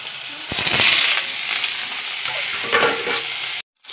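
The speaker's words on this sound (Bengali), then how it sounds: "কম তেল দিয়ে আমি মূলাগুলি ভেজে ফেলছি।" Radish pieces fry in a small amount of oil, a close crackling sizzle that swells with stirring bursts before cutting off abruptly near the end.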